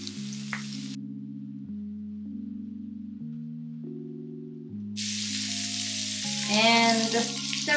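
Spring onions and sliced red chilies hiss in a hot wok for a Chinese salt and pepper squid fry, a loud sizzling rush that rises over steady background music partway through.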